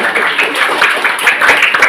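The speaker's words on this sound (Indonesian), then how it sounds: "Ya, tepuk tangan dulu untuk siswa." A crowd of school students and guests claps at a madrasa Maulid celebration, a brief burst of dense, loud applause lasting about two seconds.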